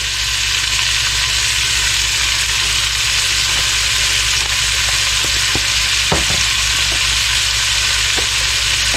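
Potato mixture with salt and pepper cooking down in a pan for German potato salad, giving a loud, steady sizzle and frying hiss throughout with occasional stirring scrapes and no talking.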